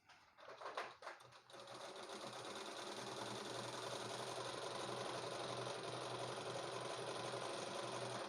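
A 4-in-1 pico and zigzag sewing machine stitches a zigzag, starting with a few uneven clicks and then running in a steady, fast, close mechanical whir to the end.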